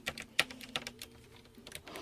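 Quiet, irregular keystrokes on a Sharp CS 204 computer keyboard, about a dozen sharp plastic clicks in a close, hushed room with no voices.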